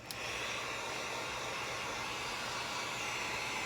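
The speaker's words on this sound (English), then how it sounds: "where you place your heat gun at, right whenever it blows, it's going to blow right onto your tumbler" A heat gun used for an alcohol ink tumbler blows a steady, close, breathy rush of air after a short click at the start, holding an even level with no talking.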